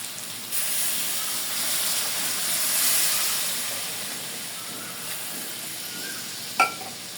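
Goat tripe frying in hot oil gives an even, loud hissing sizzle that swells gently midway, followed near the end by a single sharp scrape or knock, likely from stirring.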